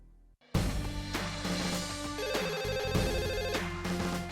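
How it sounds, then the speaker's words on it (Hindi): A telephone rings while a call to the police is being placed in a comedy scene, a loud electronic ringing pattern with repeated tonal pulses that starts abruptly after a short quiet moment and continues steadily. "एक मिनट में पुलिस को फोन लगाता हूँ"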